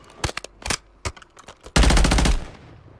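Gunfire in a video game: scattered single shots and short bursts, then a loud, close automatic burst lasting about half a second before fading, with no talk.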